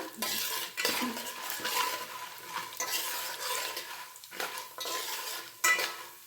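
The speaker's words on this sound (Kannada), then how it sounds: "ಸ್ವಲ್ಪ ಬಣ್ಣ ಚೇಂಜ್ ಆಗ್ತಿದ್ದಂಗೆ ಈರುಳ್ಳಿನ ಹಾಕೋಬಿಡೋಣ" Onions go into a frying pan with lentils and are stirred with a utensil, giving loud scraping and clinking over a steady sizzle, with a few sharp knocks against the pan.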